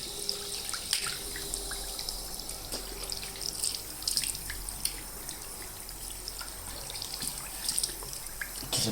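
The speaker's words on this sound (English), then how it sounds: "just gonna hydrate the face quickly with some hot water" Hot water from a sink splashes onto a face before shaving, faint irregular drips and trickles with small splashes scattered through.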